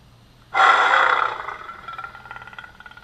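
Boot-up tone from a Graflex lightsaber sound board: a sudden bright electronic roar that swells, holds briefly, then decays into a pulsing, fluttering hum, fairly loud and alone.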